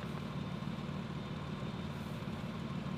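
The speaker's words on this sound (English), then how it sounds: "So I want to keep the Jeep running just so we don't kill the battery." A Jeep engine idles steadily nearby, a continuous low rumble with no pauses, running to power an inverter, with no talking over it.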